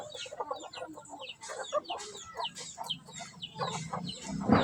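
A hen and her chick cluck and peep close by in a domestic setting, with repeated soft clucks and chirps in an irregular rhythm and no speech.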